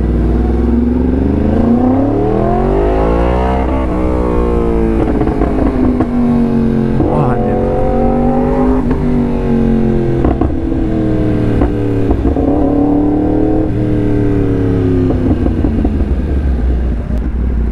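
A Yamaha R1M with a crossplane four-cylinder engine revs loudly and close, pitch sweeping up and down in repeated throttle blips over a steady, throbbing idle.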